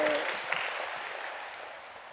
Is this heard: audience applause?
yes